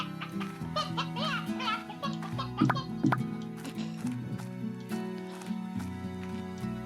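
Chickens cluck repeatedly in the video game Slime Rancher, a steady busy run of clucks over looping game music with brief sharp accents.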